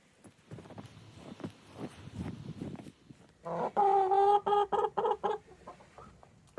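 Chickens cluck nearby in a series of loud, repeated calls, preceded by shuffling movement and soft rustling.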